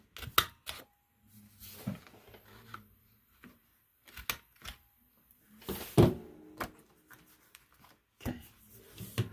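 Scissors snip through paper while cutting out a piece for a food journal page: a quiet, intermittent series of short crisp cuts and clicks with pauses between, close by and without talk.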